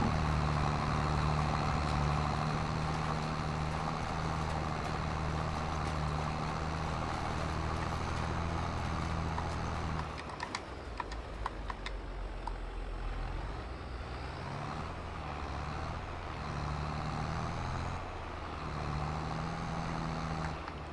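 A small farm tractor engine runs steadily on an Iowa dairy farm, a loud low idle that dips and roughens midway with some clanking before settling back to a steady hum.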